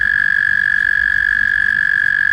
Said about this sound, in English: That is the American toad right there.